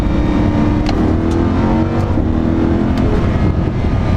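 A Lamborghini Huracan LP580-2 drives along a road, its engine holding a loud, close, continuous drone with slight swells in revs and no talking over it.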